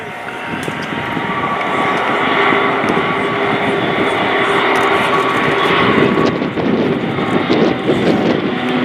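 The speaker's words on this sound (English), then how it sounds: "The Pilatus PC-7 is a famous training aircraft and known as the quietest and probably most economical turboprop in its category." A Pilatus PC-7 turboprop trainer of the Swiss Air Force PC-7 Team flies a solo display at an airshow, its steady engine drone loud and continuous, with a droning tone throughout and wind buffeting the microphone.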